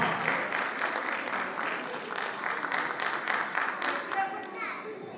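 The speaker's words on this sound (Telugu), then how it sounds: "big round of applauds for the participants" Audience at an Ugadi and Sri Rama Navami community celebration clapping for the participants, a dense, continuous round of applause with scattered children's voices mixed in.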